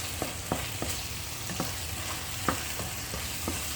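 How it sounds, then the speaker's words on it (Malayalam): Chicken roast sizzles steadily in a pan while soy sauce goes in, with a string of light scraping stir strokes at an uneven rhythm over the continuous fry hiss, close and moderately loud, no talking. "ഞാനിപ്പോൾ ഇതിലേക്ക് കുറച്ച് സോയാ സോസ് ആഡ് ചെയ്ത് കൊടുക്കുന്നുണ്ട്"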